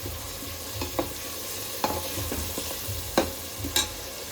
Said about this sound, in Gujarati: હવે ડુંગળી શેકાઈ જાય થોડી